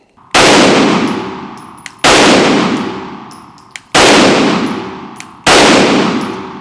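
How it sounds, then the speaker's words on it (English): Four loud, sharp pistol shots from a Canik MC9 Prime handgun, evenly spaced about one and a half seconds apart, each with a long ringing decay trailing off before the next, with no talking. "Yeah, this gun's really nice to shoot."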